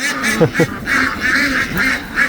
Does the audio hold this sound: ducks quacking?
yes